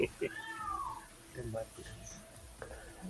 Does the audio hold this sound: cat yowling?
yes